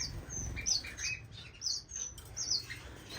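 Orange-cheeked waxbills, strawberry finches and tricolored munias in an indoor bird room give soft, high, thin chirps and tweets in scattered bursts, faint and fairly close, with no talking.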